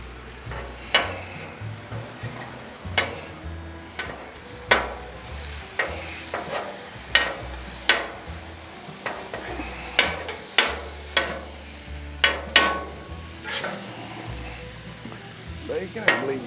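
Beef bacon frying in a pan for a smoked cheese sandwich, a steady close sizzle broken by sharp crackles and pops recurring every second or so throughout, with no talking.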